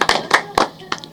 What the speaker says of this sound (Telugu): ఒకసారి గట్టిగా చప్పట్లు ప్రత్యూష గారికి